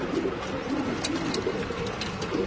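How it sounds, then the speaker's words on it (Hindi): Lal Cheena racing pigeon cooing in soft low rolling calls, repeated several times close by over a steady background murmur. "ये कबूतर है जो इसमें 17 टूर्नामेंट निकाल रखी है।"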